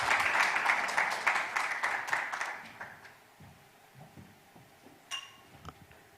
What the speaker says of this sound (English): If we could have a warm round of applause as she comes forward